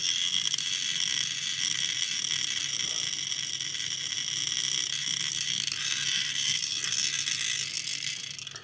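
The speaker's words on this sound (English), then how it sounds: "I'm going to stir this again. I apologize for the noise." A bottle of Robert Oster Gilded Jade fountain pen ink is stirred, giving a steady, fairly loud hiss with a ratcheting scrape that runs unbroken for the whole stretch, with no talking.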